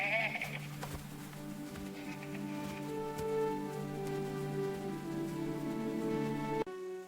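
Cartoon sheep bleating while grazing, several sustained wavering bleats over a soft background of music, moderately loud and continuous, cutting off near the end.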